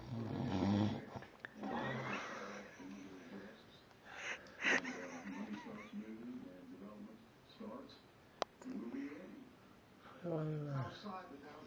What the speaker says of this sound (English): This is the first time I've ever seen this snore.